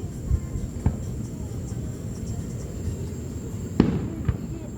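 Fourth of July fireworks going off in the distance, a few scattered muffled booms over a steady low rumble and hum, with a faint high whine running through.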